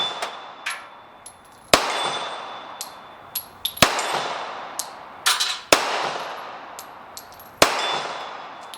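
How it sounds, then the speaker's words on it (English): A 1917-model 1911 pistol fires four loud, sharp shots spaced about two seconds apart outdoors, each with a ringing tail, and faint metallic clinks fall between them. "we're going to load up and take a few pot shots, and we're going to start with that 1917 model"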